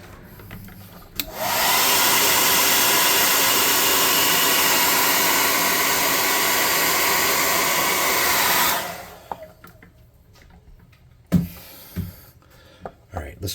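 A hair dryer blows on freshly painted tabletop miniatures, a steady loud whoosh running for about seven seconds before cutting off, followed by quiet handling clatter.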